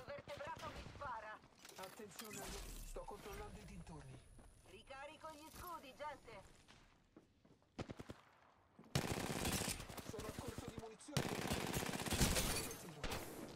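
RE-45 automatic pistol firing in Apex Legends, with long rapid bursts of dense shots in the second half and clicks and mechanism sounds earlier, while a voice talks over the first part.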